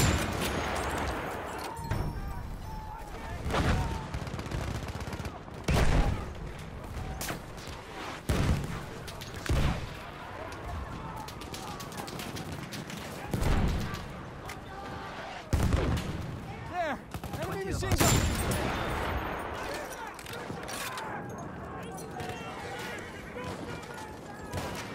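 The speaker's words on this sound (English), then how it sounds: "Machine gun over there!" Heavy bursts of machine gun and rifle fire crackle through a video game battle, with repeated loud volleys and booming impacts across a dense, continuous din.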